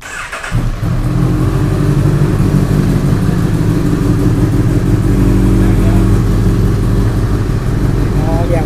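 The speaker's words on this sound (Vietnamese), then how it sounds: "Rồi test tiếng máy nổ bô cho anh em ha." A 2021 Honda CB1000 Neo Sports Cafe fitted with an aftermarket exhaust starts up and settles into a steady, deep, fairly calm idle, close by and continuous for several seconds.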